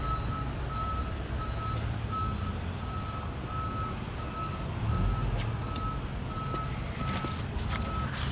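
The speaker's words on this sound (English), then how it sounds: "I hear some forklift stuff happening here" Steady, evenly spaced forklift reversing beeps repeat at a moderate distance, over a low rumbling background with occasional clanks.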